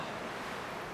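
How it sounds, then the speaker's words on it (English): Wind blows steadily across open water on Lake Drummond in a swamp, a faint, even rush with a soft wave-like texture and no voices. "It's a beautiful but windy day out on Lake Drummond."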